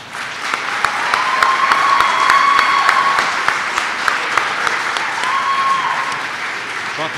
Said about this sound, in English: Brought the cheering team, good for you